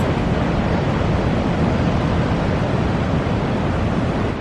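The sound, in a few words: strong sea waves breaking on beach, St Agnes, Cornwall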